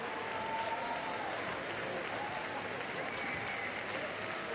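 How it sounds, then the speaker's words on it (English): Crowd applauding at a para judo match: continuous dense clapping from a large audience, steady and fairly loud throughout, with faint voices mixed in. "Crowd absolutely loving this."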